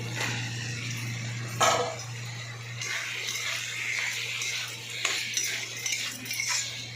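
Spices and soybean chunks stir-fried in a pan, a steady sizzle with scraping and clinking of a utensil against the metal, running throughout beneath a constant low hum.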